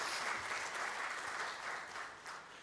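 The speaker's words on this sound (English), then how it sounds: "both of them deserve a round of applause" Sustained applause from a conference audience at a semiconductor ecosystem event, a steady dense wash of clapping at moderate distance that eases slightly toward the end, with no talk over it.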